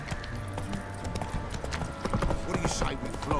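The horse Roach gallops in The Witcher 3, hoofbeats pounding in quick rhythm for a few seconds, growing louder toward the end amid game ambience, with a voice briefly mixed in.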